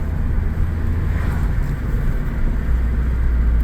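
A Ford Focus, its transmission freshly recalibrated after jerky shifting, accelerates at almost half throttle; a steady, close low engine and road rumble with some wind noise runs evenly throughout.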